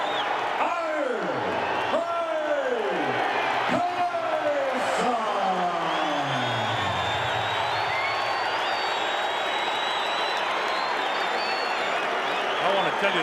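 Heavyweight boxing arena crowd at Mike Tyson vs Michael Spinks: a loud, unbroken roar of cheering and applause fills the hall, while an announcer's drawn-out voice rings over it at the start.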